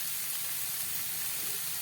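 Spices frying in a pan as they are cooked down for a bottle gourd and fish dish. A steady, close sizzling hiss continues without a break and without talking.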